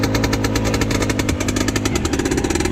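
An old Soviet UMZ tractor engine, hand-started with no electric start, chugs loudly and steadily just after start-up, with fast, even pulses close to the microphone and no talk over it.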